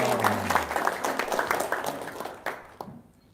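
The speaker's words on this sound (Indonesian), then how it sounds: "Tepuk tangan dong." Audience applause breaking out as a dense burst of clapping that holds steady, then thins and fades out over the last second.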